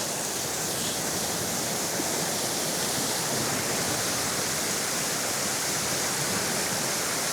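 A heavy waterfall after heavy rain roars steadily near Muir Creek Beach, Sooke, a dense and loud rush of pouring water with no breaks and no voices.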